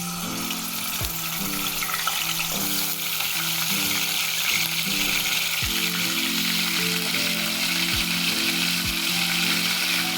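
Onion paste hitting hot oil in a chicken gizzard curry pan, giving a loud, steady sizzle with wet bubbling, plus a few sharp clinks of a utensil against the pot.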